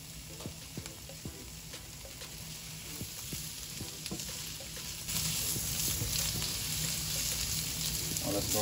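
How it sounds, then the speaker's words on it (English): Potatoes, carrots and onions sizzle and fry steadily in a hot pan for a shrimp curry, a continuous crackling hiss with occasional stirring clicks that grows slightly louder midway. "once they get hot, I'm gonna go ahead and add our potatoes, carrots, and our onions"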